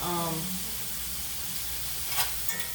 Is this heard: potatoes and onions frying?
yes